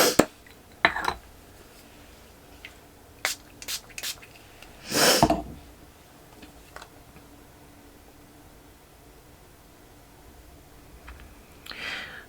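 Several short hissing spray bursts close by onto a makeup brush, scattered at irregular intervals, one longer spray in the middle, with quiet pauses between them.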